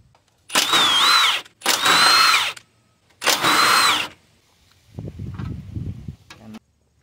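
A power tool working a 12mm bolt off a Nissan Murano, three loud, close whirring bursts of about a second each with short pauses, followed by softer clanking and handling.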